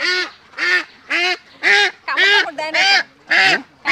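A Khaki Campbell laying duck quacks repeatedly and loudly at close range while being caught, about eight evenly spaced harsh calls in quick rhythm.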